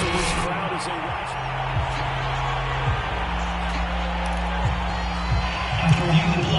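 Stadium crowd noise from the Madden 22 American football video game, a steady roar with cheering swells that lift slightly near the end, running continuously under game sounds.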